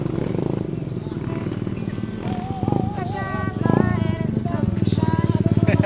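A motorcycle is ridden onto a transport through floodwater, its engine rumbling and revving unevenly with clattering underneath while people talk and call out nearby.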